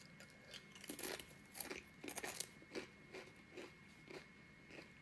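Lidl paprika crisps, stacked like Pringles, are crunched in a string of soft, close bites and chews, quiet and irregular with no talking.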